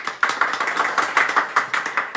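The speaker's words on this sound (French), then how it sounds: "Applaudissez-vous." A live audience at the semi-final of a French talent show applauds, with dense, steady clapping near and loud, punctuated by regular sharper accents throughout.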